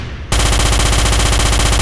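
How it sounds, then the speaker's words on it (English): Marauder rifle in the Starship Troopers video game firing a sustained automatic burst, a loud, dense rapid rattle of shots that starts abruptly after a brief quiet moment and continues without pause. "The rifle overheats after prolonged use, so fire in short,"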